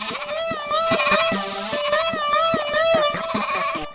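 Goats bleat over and over, with several wavering, nasal calls overlapping into a loud, close chorus that runs almost without a break.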